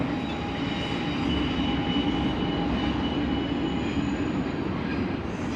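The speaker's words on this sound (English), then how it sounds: "There's a train over there." A steady, heavy rumble and rattle of a train rolling past at moderate distance, continuous throughout with no voices.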